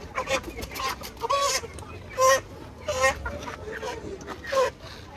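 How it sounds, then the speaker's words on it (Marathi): A rooster clucks and squawks in repeated agitated bursts while being caught near a temple, with other chickens around. People talk in the background. "पकड दादा कोंबडा."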